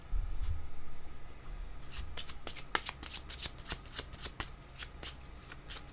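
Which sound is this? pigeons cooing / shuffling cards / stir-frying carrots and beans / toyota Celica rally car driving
shuffling cards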